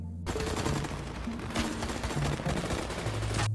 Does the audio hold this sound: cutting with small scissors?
no